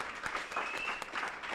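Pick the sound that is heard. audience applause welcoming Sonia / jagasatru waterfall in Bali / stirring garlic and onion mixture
audience applause welcoming Sonia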